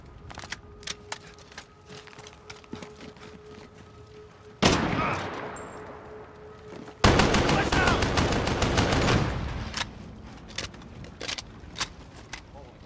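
A deployed automatic turret firing in a multiplayer shooter: a rapid, evenly spaced volley of sharp, loud shots after a few scattered earlier pops, then a burst of chatter from a single weapon that tapers off, with no talk.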